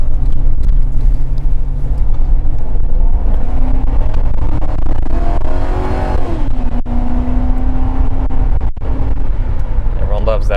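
A 2007 Ford Crown Victoria P-71 engine revs hard toward redline. The loud, close engine note climbs in pitch and then settles, over steady cabin rumble.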